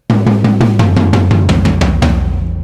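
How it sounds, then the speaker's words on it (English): Three tom-tom drums struck in a steady rhythm, repeated hits ringing at slightly different pitches, close and loud, with no voices. "And when you put all of those 3 tom-toms together,"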